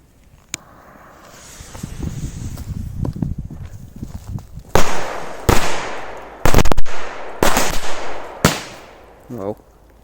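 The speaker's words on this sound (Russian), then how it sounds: "Мега мощные взрывы." Strings of firecrackers set off in bunches outdoors, first a crackling scatter of small pops, then several loud, sharp bursts in rapid clusters close by.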